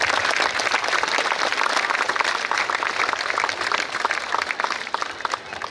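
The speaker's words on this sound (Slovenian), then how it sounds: "dajte prosim en resnično velik aplavz" An audience at the ceremonial opening of a playground in Šmartno breaks into dense, continuous applause, a close, even roar of many hands clapping that barely varies in strength.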